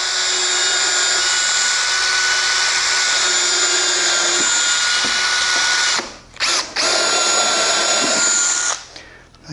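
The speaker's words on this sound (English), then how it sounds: "Get that countersink and pilot hole going right in there" A power drill loudly bores a countersink and pilot hole into half-inch plywood for a cabinet drawer, whining steadily at close range for several seconds before it stops and restarts in short bursts.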